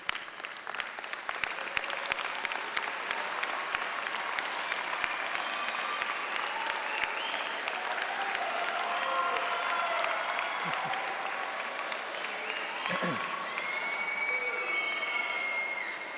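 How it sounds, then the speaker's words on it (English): A high school graduation crowd gives sustained, loud applause for the class of 2003's parents: dense clapping from a large audience, steady throughout with a few scattered shouts. "give them a big round of applause"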